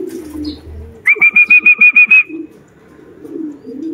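A quick run of about eight close wingbeats with a faint whistling tone as a racing pigeon flaps in to land during a race, then quiet background murmur.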